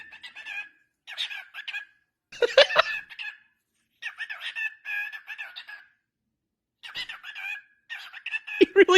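In Monster Hunter Rise, a small bird creature sings in repeated bursts of chirpy, squawking, warbling phrases with short pauses between them, loud and close.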